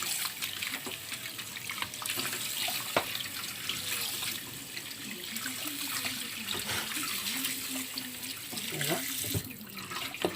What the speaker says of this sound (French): Bien laver la viande, bien échaudée.